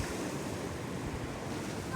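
Sea waves at high tide wash steadily near a small harbour, a soft, continuous rushing hiss of surf mixed with faint wind buffeting, fairly quiet and brief.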